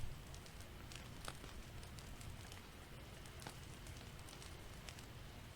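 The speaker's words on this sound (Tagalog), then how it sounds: "Umuulan eh, no?" Steady rain patters on a surface, heard from inside a cabin in a forest, with scattered crackling drops over a low, constant rumble. It is faint and continuous, and no one speaks.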